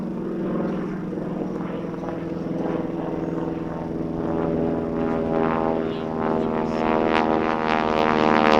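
A Texan propeller airplane flies aerobatics at the Dover AFB air show, its engine drone steady and fairly far at first, then growing louder with a rising, pulsing propeller buzz as it comes around.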